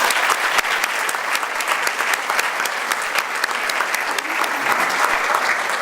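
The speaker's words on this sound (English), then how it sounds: "let's give them a round of applause" An audience claps steadily for drug-free scholar-athletes at a sports awards presentation, a dense, even wash of applause from a sizable crowd.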